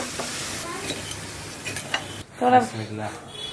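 A paratha-like flatbread made with roti flour fries slowly in a little oil, a soft steady sizzle with faint scraping, then brief utensil clinks and a moment of louder bubbling near the end.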